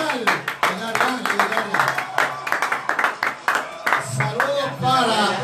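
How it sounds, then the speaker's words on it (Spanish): A live interview show audience claps for a guest, scattered uneven hand claps mixed with speech and voices running over and around them. "Un aplauso para Yaria Portugal."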